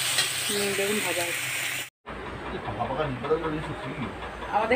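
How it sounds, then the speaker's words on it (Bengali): Meat frying in a pan and being stirred, a steady sizzle with scraping stir strokes, broken by a brief silent cut midway; a voice talks over the first part. "দেখুন ভাজা"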